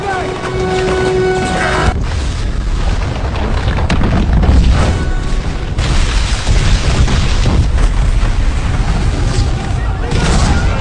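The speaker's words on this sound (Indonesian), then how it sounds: "gedung itu pun meledak dan roboh" A building explodes and collapses: a heavy boom erupts into sustained rumbling and crashing debris, loud and continuous, with brief bursts layered over a deep roar.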